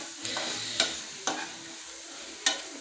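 Banana pieces fry in ghee and sugar in a pan, a soft, steady sizzle broken by three or four sharp metallic scrapes as a spoon stirs them.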